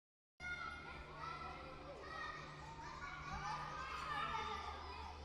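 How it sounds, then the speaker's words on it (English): A playground full of children playing, with distant overlapping shouts, chatter and laughter forming a busy, continuous ambience that starts abruptly and holds steady. "I added this foley of some kids playing in a playground."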